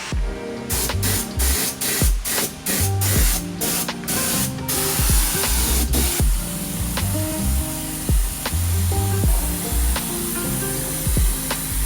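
A spray gun hisses primer and paint coats onto a Holden Commodore, with short stop-start bursts at first and then one long continuous spray, loud and close, over a faint background hum.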